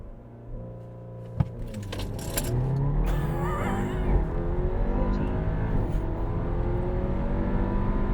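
A 2022 Audi A4 sedan launches from a standstill in a 0-60 run and accelerates hard, engine note rising steadily through the gears after a few clicks and rattles at the start.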